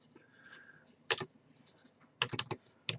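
Someone types on a computer keyboard during a house project: a few isolated key clicks, then a quick, closely spaced cluster of keystrokes and one last tap near the end, all close and fairly quiet.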